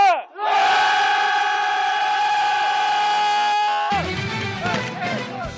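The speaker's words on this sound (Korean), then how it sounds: "전방에 함성 5초간 발사!" Army training-center recruits in Korea let out a massed battle cry on command, a loud sustained group shout held for about three and a half seconds, then breaking into scattered voices and commotion.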